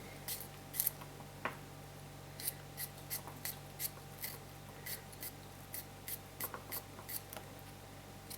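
A knife slices through tender salad vegetables on a board, producing faint, close, crisp cuts in an irregular rhythm of a dozen or so strokes.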